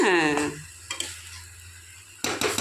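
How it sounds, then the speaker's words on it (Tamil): Ridge gourd curry sizzling in a pan on high heat while a spoon stirs it, giving a few scraping strokes over a continuous hiss, near and clear, with a brief tonal clatter at the start. "இங்கே பாருங்கள், இதையும் அப்பப்போ இந்த மாதிரி கிளறி விடணும்."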